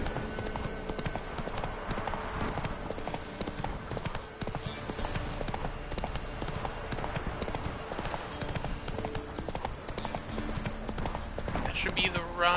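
The horse Roach gallops in The Witcher 3, rhythmic hoofbeats pounding steadily and close throughout, with a brief whinny near the end, under someone talking over the game music.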